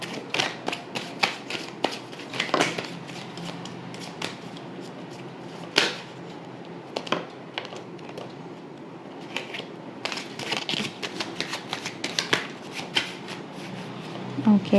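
Tarot cards shuffled continuously and close up, producing a dense run of crisp papery flicks and riffles for the whole stretch, with a person speaking softly underneath.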